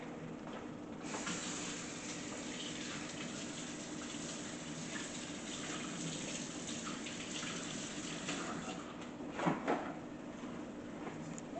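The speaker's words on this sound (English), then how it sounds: "I'm going to wash my hand." Water from a kitchen tap runs steadily while hands are washed under it, a soft continuous hiss with a brief clatter near the end, fairly faint and with no talking.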